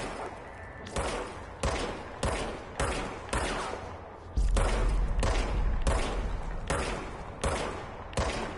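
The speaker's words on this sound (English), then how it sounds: "Fire my service weapon with the RT." Shots from a service weapon in the video game Control ring out in a steady, loud, punchy volley, one blast roughly every half second with no pause.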